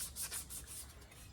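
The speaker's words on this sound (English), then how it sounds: "I have a little more sanding to do." Rhythmic scraping strokes of sandpaper rubbing a 1972 VW Super Beetle car door, close up and continuous, with a steady back-and-forth rasp.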